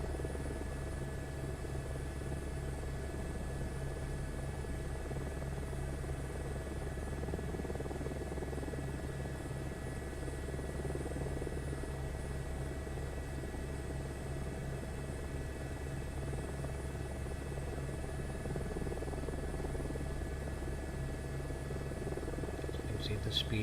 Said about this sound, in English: Still learning the helicopter.